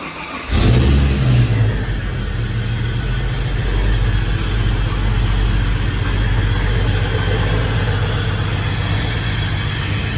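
Holden VY drift car with an L67 supercharged V6 cranks and fires up in a garage, a brief starter burst then a loud, close engine settling into a steady low idle.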